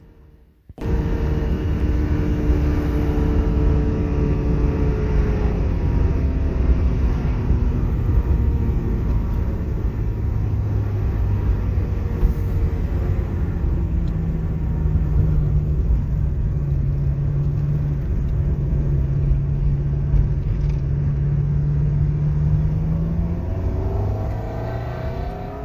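A Ferrari 360 that sat unused for three or four years drives steadily, its engine droning loud and close with long rising and falling harmonic sweeps as it pulls through gears, no voices present.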